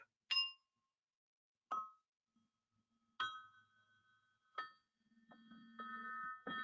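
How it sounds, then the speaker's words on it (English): Four bright Montessori bell tones struck with a mallet one at a time with pauses between, each ringing out and fading, followed by a softer, sustained cluster of overlapping tones. "It's a full set of Montessori bells with a beautiful sound."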